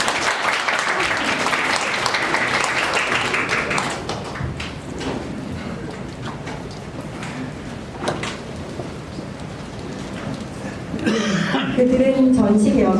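Applause from an audience for committee chair Choo Mi-ae at a book concert event, a dense sustained clapping wash that thins slightly midway then swells again near the end, with some voices mixed in.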